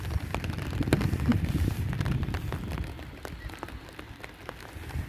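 Steady rain patters on surfaces nearby in Schaffhausen, with scattered louder drops ticking over a soft continuous wash of water.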